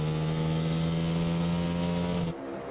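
NHRA drag race cars of Matt Smith and Gianna Evaristo scream down the strip in a sustained, high-pitched engine wail heard from a distance. The sound cuts off abruptly into quieter background noise.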